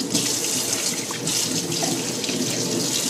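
Water from a dishwasher that isn't cleaning properly gushes out in a steady, close, hissing stream with a splashing wash throughout, no talking.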